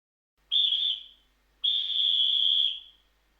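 Two sharp whistle blasts at a football field, the first short and the second longer, loud and close with no talk around them.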